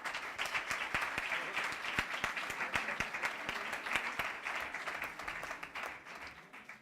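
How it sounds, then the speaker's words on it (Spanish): Audience applause in a school centre in Montijo for visiting parliamentarians at a talk and round table on Parliament; steady dense clapping from a sizable crowd, sustained throughout at moderate level, with no speech over it. "lo primero que voy a hacer es pediros un aplauso por la gentileza que han tenido en venir"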